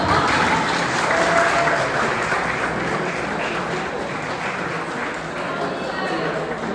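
An audience applauds at an event about physical education in Buenos Aires province schools, the sustained, dense clapping of a crowd filling the room steadily from start to finish, with no gaps.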